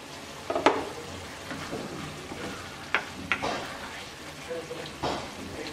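Puishak (Malabar spinach) with mola fish simmers in a pan over a medium flame, a soft steady sizzle with a few louder spits and stirring knocks scattered through it.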